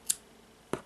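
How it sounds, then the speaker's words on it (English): Scissors snipping a crochet friendship bracelet cord: two quick, faint, crisp snips about half a second apart in a quiet room. "I will take the scissors and cut the end of the cord,"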